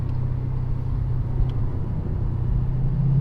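A Lexus RC F with an ARK exhaust drives in second gear, a steady low, droning rumble heard from inside the cabin.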